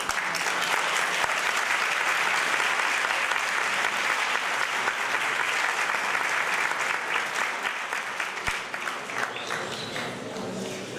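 Sustained audience applause at a conference on reconciliation and peace, dense clapping from a large crowd filling the room for about eleven seconds, tapering slightly toward the end.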